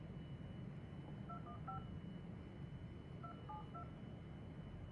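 Telephone keypad dialing a number during a cold call, with two quick bursts of DTMF touch tones, each a run of several short beeps. They sit faintly over a steady low background hiss, and nobody speaks.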